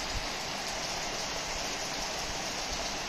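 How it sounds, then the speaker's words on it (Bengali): Heavy rain pours steadily onto a roof in a continuous, dense hiss of fine drops that stays loud and even throughout, with no voices. "ভীষণ জোর বৃষ্টি হচ্ছে কিন্তু।"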